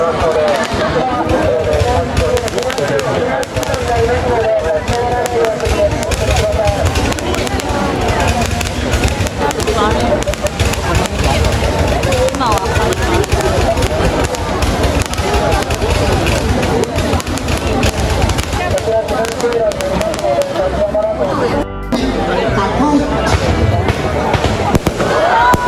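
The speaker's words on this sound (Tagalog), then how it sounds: "Hanabi or the fireworks." Fireworks crackle and pop continuously in a dense barrage at a display in Japan while a crowd murmurs and people talk throughout.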